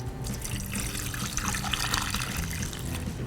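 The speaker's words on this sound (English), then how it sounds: "Go ahead and just cover the tomatillos with the water." Tap water pours steadily over tomatillos in a slow cooker for barbacoa, a continuous close rushing and splashing stream with no talking.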